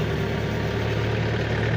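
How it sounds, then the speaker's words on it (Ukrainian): A DTZ tractor idles steadily at close range while a Virax sprayer is primed, giving a continuous low engine drone with a strong low hum and no talk. "Трохи пустили щеплення, прокачуємо оприскувач, трактор стоїть"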